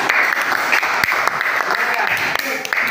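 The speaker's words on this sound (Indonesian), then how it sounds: "Ternyata yang maju pertama Ya, kelompok 3, tepuk tangan." Students in a classroom clap for group 3, a dense burst of close applause lasting a few seconds, with voices mixed in.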